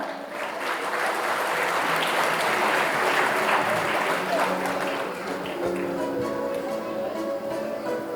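Crowd at a school annual day clapping, loud and dense, building quickly then tapering slightly before holding on; a faint musical tone and some murmured voices sit beneath the applause.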